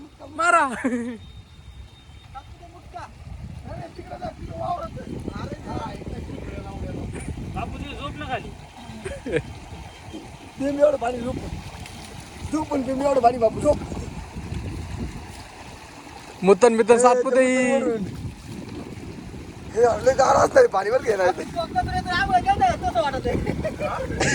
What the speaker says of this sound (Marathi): आंघोळ करायला धबधब्याला आलो